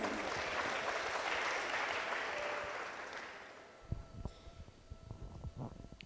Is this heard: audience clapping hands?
yes